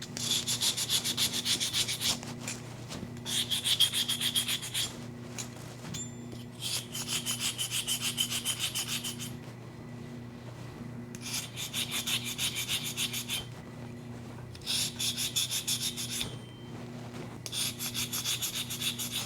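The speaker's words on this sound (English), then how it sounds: "Nice sanding stick." Rapid scratchy strokes of a sanding stick in repeated bursts of a few seconds each, during enamel work, separated by short pauses, close by and fairly quiet.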